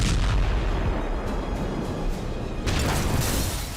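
Israeli missile strikes and explosions in Gaza, heard as a dense, continuous roar of heavy blasts and booming impacts with a fresh burst near the end, loud and without speech.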